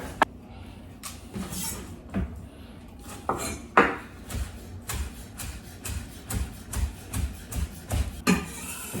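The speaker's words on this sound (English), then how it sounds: "I'm going to chop up some chives and just sprinkle those on top" A knife chops chives on a cutting board in a run of sharp, close, regular thuds that speed into an even rhythm, with no talking.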